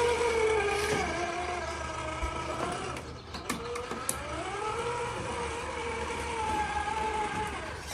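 A Redcat Gen 9 RC car's electric motor whines in low gear, a steady tonal whine that rises and falls throughout, with a few faint clicks near the middle.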